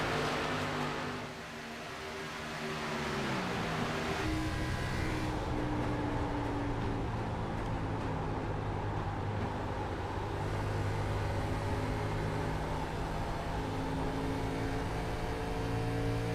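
Several stock car engines roar at full throttle during a Midwest Winston Cup Series race, a continuous loud drone with rising pitch as cars pass, blending into a steady din.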